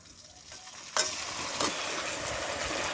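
Mustard paste hits hot oil for a village-style gurjali fish curry, a faint hiss that jumps into a louder sizzle about a second in, then keeps crackling steadily with a stirring scrape.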